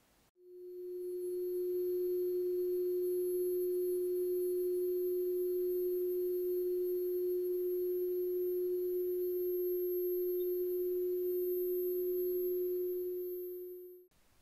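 A Bulova Accutron tuning-fork watch gives a pure, steady electronic hum that holds unchanged for about thirteen seconds, faint and close, with no other sound and no talking.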